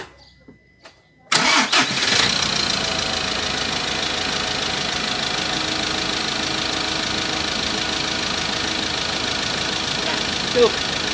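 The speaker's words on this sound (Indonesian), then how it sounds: "Sekarang kita hidupkan mobil ini." A car engine cranks briefly after near silence, then catches and settles into a steady, moderately loud idle that runs continuously to the end.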